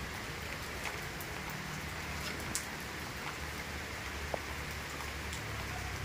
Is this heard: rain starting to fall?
yes